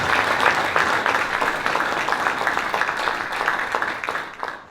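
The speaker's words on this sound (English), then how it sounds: "How about a warm round of applause for Dr." A warm round of applause from a gathered audience welcoming a speaker, steady, full and close, holding for several seconds before cutting off.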